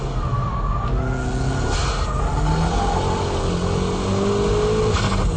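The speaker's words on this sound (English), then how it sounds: "What do you do when it's all wet like this? Just pull the old e-brake." A car drifts through corners on a wet road, the driver pulling the e-brake, its engine a loud, steady drone that rises and falls in pitch throughout.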